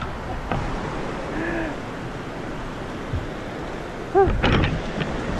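Steady rain hisses throughout with a low rumble of thunder, joined briefly by a few voices and a sharp clatter near the end.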